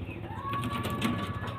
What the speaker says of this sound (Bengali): দারুণ দারুণ পায়রা